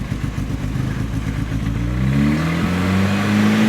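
A supercharged R53 Mini Cooper engine held at a light, steady throttle chugs unevenly, then smooths into a rising, steady drone, loud and close, with no voices.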